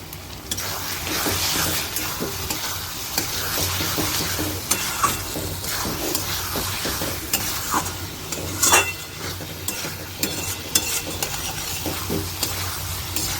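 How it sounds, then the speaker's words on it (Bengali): Potatoes added to a hot pan and stirred while frying for pea ghugni, with continuous close sizzling and repeated scraping stirs of a utensil against the pan. "আর এবার দেখুন আলুগুলো আমি দিয়ে দিচ্ছি।"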